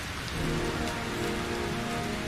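Steady rain pours down in the Heavy Rain video game, a dense continuous hiss of drops on surfaces filling the scene at even loudness, with faint tonal music underneath.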